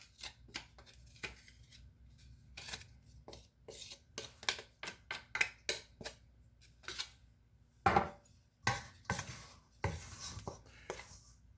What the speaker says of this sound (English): I'm going to chop this into the flour.